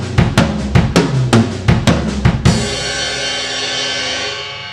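A fast drum fill rolls across the toms in quick, punchy hits, descending in pitch, then ends on a crash cymbal that rings out and slowly fades.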